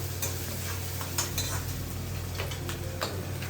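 Vegetables cooking in a hot pan on a gas stove, a continuous close sizzle with stirring and occasional light clinks of utensil against the pan, no speech.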